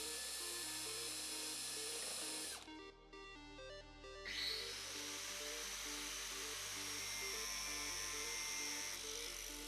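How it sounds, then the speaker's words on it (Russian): An end mill cuts a window into a plastic car bumper, giving a high, steady whining drone with a short dip in pitch and level partway through before the cut resumes, close and continuous. "Фрезой торцевое сверло вырезаю окно на полмиллиметра внутрь от контура"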